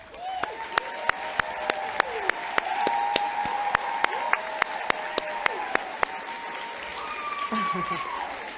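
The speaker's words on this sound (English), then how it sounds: "please stand for a round of applause" Graduation audience at a Columbia University occupational therapy ceremony applauding steadily, with sharp individual claps standing out over the dense, sustained clapping throughout.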